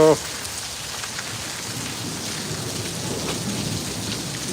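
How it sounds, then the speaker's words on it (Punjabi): Heavy rain pours down steadily with a dense broadband hiss, thunder rumbling low beneath it throughout. "ਗਰਤ ਕੱਢਦੀ ਬਈ ਮੀਂਹ ਨੇ"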